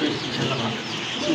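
Pigeons at a pigeon seller's stall give low, soft coos that sit inside a dense, constant wash of background noise.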